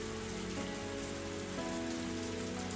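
Heavy downpour sound effect from the Higurashi: Tatarigoroshi visual novel, a dense, steady hiss of rain pounding surfaces with no breaks, constant and enveloping for the whole stretch.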